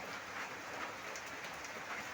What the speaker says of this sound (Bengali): মুসলধারে বৃষ্টি হচ্ছে মুসলধারে